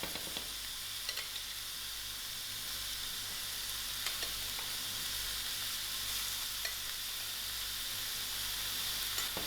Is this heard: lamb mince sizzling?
yes